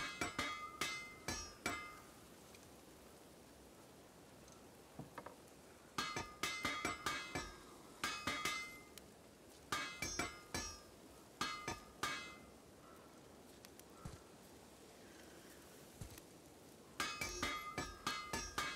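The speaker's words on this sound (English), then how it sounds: "I like how someone is hammering a weapon in the background" Background hammering on a weapon in God of War on PS4: bursts of rapid metallic clinks and strikes in irregular clusters, moderately close, with quiet pauses between.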